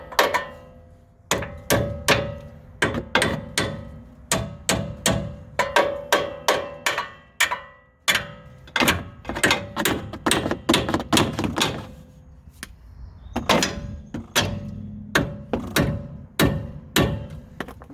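A hammer strikes repeatedly at a sway bar link on a Dodge Cummins truck, sharp metallic blows in irregular bursts with short pauses between groups, close and loud with no talking.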